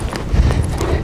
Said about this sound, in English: So if I'm cantering and I pinch my thighs, Rebel's not gonna like this.